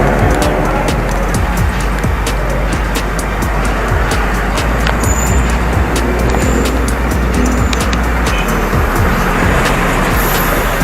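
Dense road traffic on Daang Hari beside flyover construction in the Philippines, a steady loud roar of passing cars and trucks with continuous engine rumble and tyre noise throughout, no breaks.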